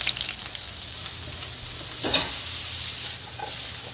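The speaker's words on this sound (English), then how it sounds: "I got all the peppers, onions going on right here, a little bit of celery inside as well." Sliced peppers, onions and a little celery sizzle steadily in a pan for a sweet and sour vegetable medley, a constant hiss with a brief louder stir partway through, no talking.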